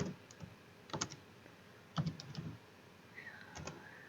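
Keystrokes on a computer keyboard while writing an HTML paragraph tag in Notepad, heard as a few quiet clusters of clicks with short pauses between them in a hushed room.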